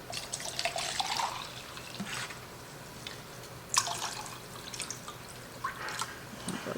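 Water and vinegar pouring into a small pot, a steady trickling and splashing stream with dripping, close and moderately loud.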